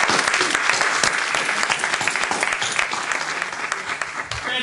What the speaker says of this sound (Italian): Qui presente l'autore, facciamo un applauso.